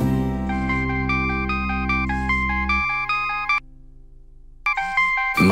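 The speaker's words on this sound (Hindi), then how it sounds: "माँ का फोन है।" A melodic phone ringtone plays loudly in a repeating tune over a low hum, cuts off briefly, then starts again.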